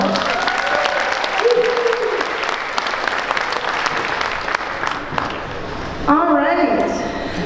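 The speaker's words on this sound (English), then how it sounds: "Give her another round of applause." Audience applause fills a school band Christmas concert for 6th-12th grade students, a steady dense patter of clapping from a hall crowd throughout, with a voice speaking briefly near the end.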